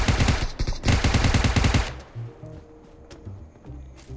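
Rapid automatic gunfire from the PUBG video game, a loud sustained burst of close shots for about two seconds, then quieter scattered game sounds and low rumble.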